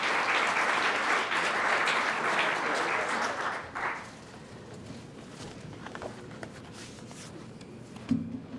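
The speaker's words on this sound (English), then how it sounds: "can we give applause for Audrey?" An audience at a scholarship reception for the Meadville Dr. Martin Luther King, Jr. celebration applauds for a recipient, a loud, dense round of clapping that fades after about four seconds into quieter room noise with faint movement.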